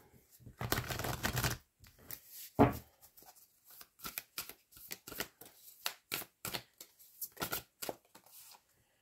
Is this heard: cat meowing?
no